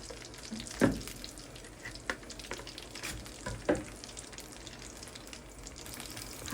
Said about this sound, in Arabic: حطيت كده الكرنبيط بتاعي في الزيت، هسيبه بقى يتحمر